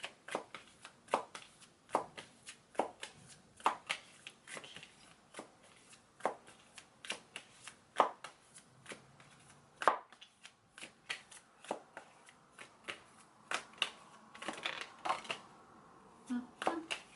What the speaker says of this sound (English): So I'm gonna pull like a couple of cards from this deck.